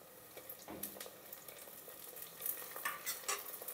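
Curry leaves and mint frying with onion in a pan for kichidi, a quiet sizzle with a few stirring scrapes and small crackles, steady and close, no voices.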